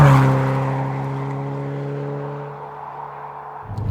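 A Subaru Impreza engine pulls with a clear, steady tone that then fades away, ending in a brief rustle of road noise.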